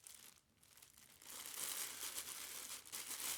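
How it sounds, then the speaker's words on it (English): Crackly crinkling of a clear plastic bag being handled and pulled open to unwrap a fur felt trilby hat, steady and close, growing busier after a brief quieter moment. "remove the clear plastic bag packaging from the hat"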